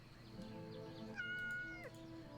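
A cat meows in the video game Yes, Your Grace, one clear, drawn-out mew with a rising and falling pitch, heard alone over a soft game background.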